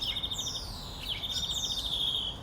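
Cartoon birds chirping and tweeting in quick high repeated calls and rising whistles, steady and fairly loud over a soft background hum.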